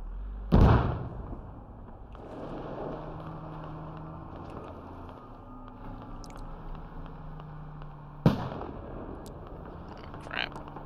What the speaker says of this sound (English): driving towards explosions and gunfire